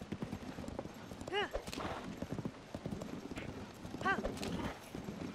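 Horse hooves clip-clopping at a gallop in the game Zelda: Tears of the Kingdom, a quick, steady rhythm of soft thuds with two short neighs, while someone talks over it.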